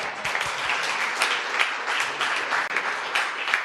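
Steady applause from an audience, a dense wash of clapping that holds evenly throughout at moderate loudness.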